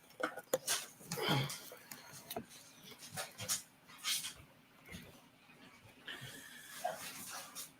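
A dog pants and whimpers in short bursts at close range, indoors, with scattered movement noises and someone speaking at times.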